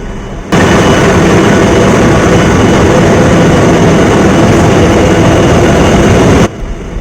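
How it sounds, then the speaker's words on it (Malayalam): A merchant ship's main engine room roars with a loud, steady mechanical drone that starts and stops abruptly, unbroken by any voices. "എഞ്ചിൻ റൂമിൻ്റെ ഒറിജിനൽ സൗണ്ട് നിങ്ങൾക്ക് കേൾക്കണം"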